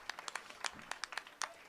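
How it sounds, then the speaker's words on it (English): Concert crowd at a band show gives scattered, distinct claps, individual hands sharp and spaced unevenly rather than forming a full ovation. "would you give yourselves a big round of applause, please?"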